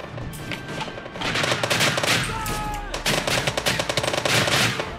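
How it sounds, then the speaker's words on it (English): Rapid gunfire bursts crackle loudly and almost without pause in a Minecraft WW2 (Heroes & Generals) battle, with overlapping machine-gun fire coming from several directions. "I'm still getting shot by like every direction."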